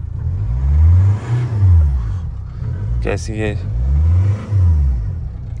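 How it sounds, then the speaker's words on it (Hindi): A Hyundai Verna or Honda City engine runs with a steady low rumble and rising and falling revs, close and continuous, while a person speaks briefly in the middle. "बाकी आप इंजन नॉइज सुनो"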